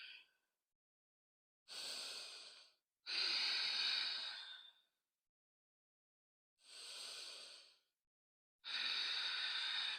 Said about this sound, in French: On reste ici 2 cycles complets de respiration.